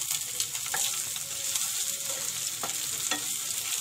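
Garlic and ginger fry in a pan with a steady broadband sizzle, punctuated by a few sharp spatula scrapes and stirs, close and continuous with no talking.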